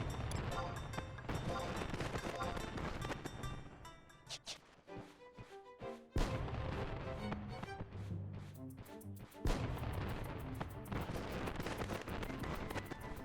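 Fireworks at a summer event in Final Fantasy XI, with a dense run of crackling pops and bursts over event music, thinning briefly before renewed volleys.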